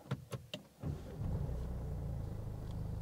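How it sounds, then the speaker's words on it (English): A few short cranking clicks, then a Mercedes car engine catches and settles into a steady low idle rumble, close and unaccompanied by voices. "Now when you restart the car, foot on the pedal"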